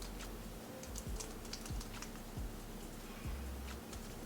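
Hard butter cut into a holiday baking mixture, a run of soft irregular taps and scrapes with low thuds, close and faint over a steady background hum.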